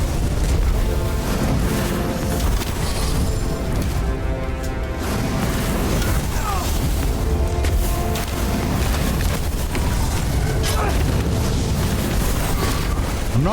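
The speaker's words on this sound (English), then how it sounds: "Oh, the ballistas are firing." Ballistas firing in Tainted Grail: The Fall of Avalon, heavy booming impacts and crashes that repeat over a dense, loud, continuous layer of battle noise, with a voice now and then.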